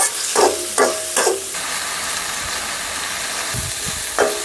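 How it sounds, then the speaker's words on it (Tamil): Ground masala paste being sautéed in a pan while making egg curry, with a few short stirring scrapes and a steady soft sizzle throughout, no talking. "இப்போ நம்ம அரைச்சி வச்ச மசாலா போட்டுக்கலாம். நல்லா பச்சை வாசனை போகிற நல்லா வதக்கணும்."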